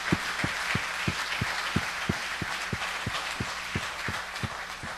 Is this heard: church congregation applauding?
yes